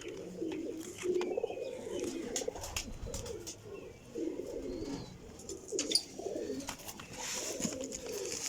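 Low, throaty cooing from a group of golden pigeons comes in repeated bursts over a quiet background with light rustling.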